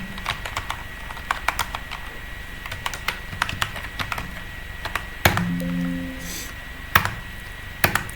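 A GST number typed on a computer keyboard, a string of crisp key clicks at an irregular pace with a louder clack and a brief faint tone partway through.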